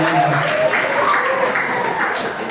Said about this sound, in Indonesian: tepuk tangan dulu untuk Mbak Fea